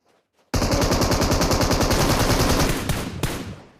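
Automatic gunfire in PUBG Mobile, a loud sustained rapid burst of shots starting abruptly after a quiet moment and running for about three seconds before trailing off.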